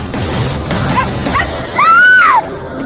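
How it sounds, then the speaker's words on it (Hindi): A dog in a Hindi horror story yelps and whines in a few short tonal cries, the loudest a rising and falling whimper near the end, over a noisy background. "सुचित उस बॉक्स से भौंकता हुआ कमरे के बाहर भाग गया।"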